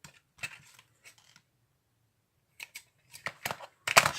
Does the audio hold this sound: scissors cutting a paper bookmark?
yes